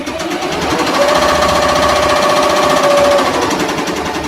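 An embroidery machine stitches a design onto a shirt with a loud, close, rapid mechanical hammering and a steady whirring hum throughout.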